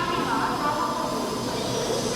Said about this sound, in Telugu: భువనేశ్వర్లో దిగిన ట్రైన్